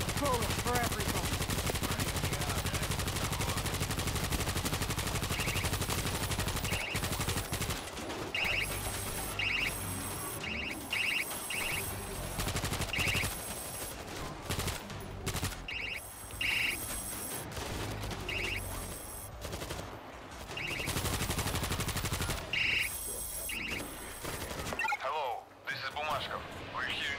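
Rapid game gunfire from the zombie shooter World War Z, sustained bursts and shots crackling through a dense, loud mix with voices talking throughout.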